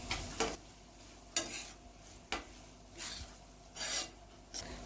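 Spoon scraping and stirring a turmeric and red chilli powder masala with tomatoes and a little coriander in a pan for egg bhurji, giving repeated rasping strokes, four or five distinct scrapes over a soft sizzle, close and alone.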